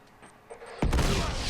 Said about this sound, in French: Double explosion